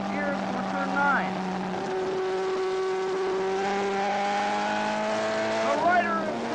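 A racing superbike engine on track drones close and loud, its pitch stepping down through repeated downshifts as it brakes into a turn, with a sharp rise and fall near the end; a voice speaks over it.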